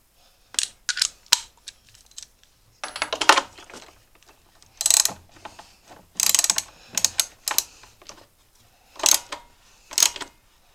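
A socket ratchet works a spark plug on a zero turn mower, giving bursts of quick metallic clicking in short runs separated by pauses, close and fairly quiet.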